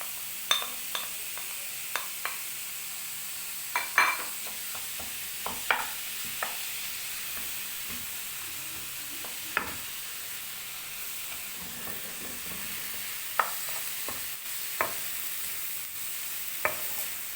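Minced meat fries with onions in a pan under a steady low sizzle, while a spoon stirs it in scattered sharp scrapes and knocks against the pan, close and alone without talk.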